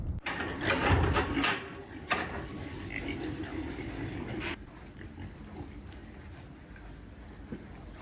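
Pigs on a farm grunt and squeal in a busy, noisy mix, loudest over the first few seconds and then settling into a steadier background of animal noise with some clatter.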